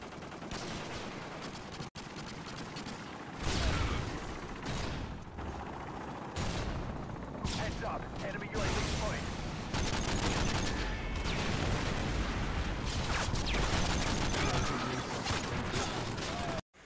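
Gunfire from an unscoped M14 EBR rifle in Call of Duty: Modern Warfare 2 during the Spec Ops mission Breach and Clear, loud close shots in bursts and single cracks amid other battle noise and impacts.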